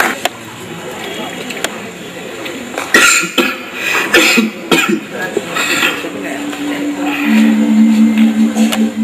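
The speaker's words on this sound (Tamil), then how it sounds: "என்னப்பா இருமுறீங்களா?" Someone coughs several times in sharp, irregular bursts close by, with brief pauses between them and some voices in the background.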